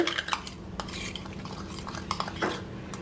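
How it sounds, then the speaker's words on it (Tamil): An egg-style mixture seasoned with salt and pepper is beaten in a bowl, giving steady close scraping and clinking of a utensil against the dish throughout, at moderate volume with no talk. "போட்டுட்டு இதையும் நல்லா பீட் பண்ணிக்கலாம்."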